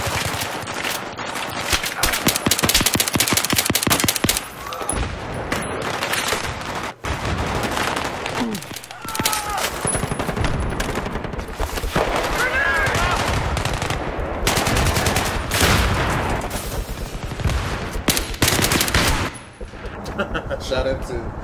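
Gunfire in a Battlefield 3 team deathmatch: loud, rapid machine-gun bursts and single shots crackle through nearly the whole stretch, with brief lulls. A player's voice comes in now and then over the shooting.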